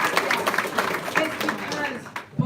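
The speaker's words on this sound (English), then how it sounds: "Yes, let's clap for my mom." Audience at a Taos County Democratic Party event for congressional candidates, clapping steadily in a dense, continuous burst under and around a speaker's voice.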